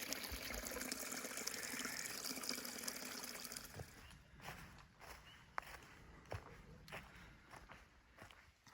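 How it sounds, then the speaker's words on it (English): Spring water flows out of a backpacking trail on the Black Forest Trail in Pennsylvania, a steady close trickle and splash that fades after a few seconds into scattered footsteps and small drips. "The water's coming right out of the trail there."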